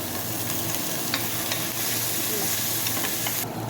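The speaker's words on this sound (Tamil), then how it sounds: "இப்போ கட் பண்ணி வச்ச 4 பல் பூண்டு சேர்த்து நல்லா வதக்கிக்கலாம்" Crushed garlic sautés in a pan for a one-pot rice and lentil dish, with a dense, continuous sizzle and the soft scrape of stirring up close.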